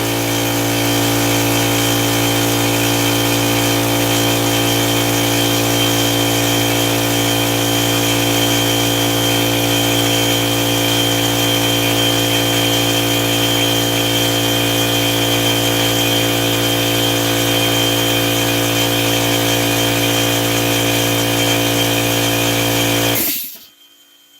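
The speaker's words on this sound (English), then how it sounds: "Give the compressor a moment." An air compressor runs loud and continuous with a steady droning hum and whine, unchanging for over twenty seconds before shutting off abruptly near the end.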